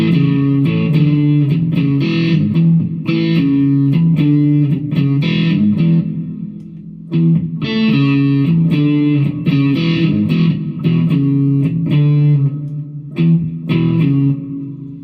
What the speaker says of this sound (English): It has distortion. The distortion is pretty horrific, but we'll let you hear it just